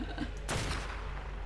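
A single gunshot burst from Ark Survival Evolved, on the Fjordur map, fires about a third of the way in as a sharp broadband crack that trails off into a low rumble.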